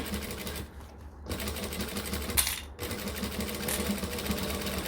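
A sewing machine stitching a Donna bag by Swoon and backstitching: steady, fast mechanical whirring close by, pausing twice briefly before resuming.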